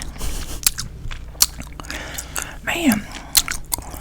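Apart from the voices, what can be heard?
chewing juicy gum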